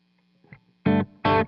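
Two short, thick overdriven electric guitar chords through a J. Rockett The Dude overdrive pedal with its ratio blend rolled fully out, each a loud burst following a faint pick scratch.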